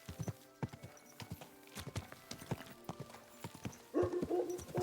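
Horse hooves clip-clop at a steady walking rhythm in the Kingdom Come: Deliverance 2 video game, sharp distinct hoof strikes close by, with a brief louder snort or whinny-like sound near the end and no talk.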